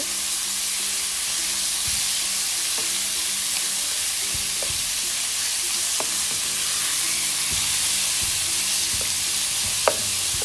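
Pieces of steak fry in a pan with a constant loud, hissing sizzle, while occasional taps and scrapes mark a utensil separating the pieces, one sharper clack near the end.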